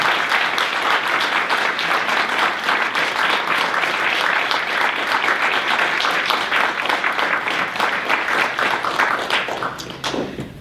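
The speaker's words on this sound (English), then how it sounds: "let's give a round of applause for us" A symposium audience gives a sustained, dense round of applause that holds steady for about ten seconds and then tapers off at the end.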